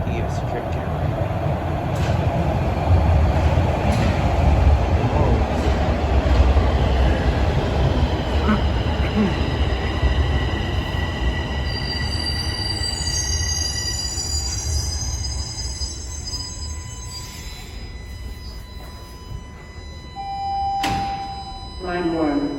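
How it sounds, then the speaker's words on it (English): A TTC Line 1 subway train pulls into Highway 407 station with a loud low rumble that builds and then eases, followed by rising wheel squeals and brake tones as it slows. A sharp whine and thunks come near the end. "Here comes another train."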